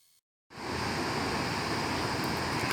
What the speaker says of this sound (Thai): ความแรงของกระแสน้ำเสียงที่เราได้ยินอยู่นี้ก็คือ บริเวณบ่อบำบัดน้ำเสีย